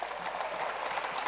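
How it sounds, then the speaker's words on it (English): Audience applause after a panel at an evening gathering, a brief, faint, steady wash of clapping at a distance. "I would like to ask the audience to give a big round of applause to everyone"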